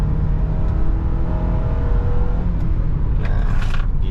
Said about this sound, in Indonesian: Tuh di atas 5000 tuh ada suara VTEC-nya.